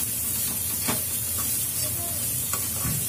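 Spices for a vegetable dalia sizzle steadily in a pan while a spoon stirs them, with a few light scraping knocks over the continuous frying hiss.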